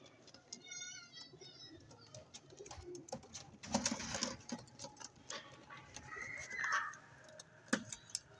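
Pigeons, including a white-eared teddy pigeon, give soft coos and flutter their wings close by, with brief patters and rustles of movement scattered through and a faint voice in the background.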